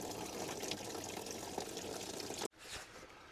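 Coolant draining from a 2001 Ford Super Duty, a steady close trickling pour of liquid that cuts off abruptly near the end, then a softer continued dribble, with no talking.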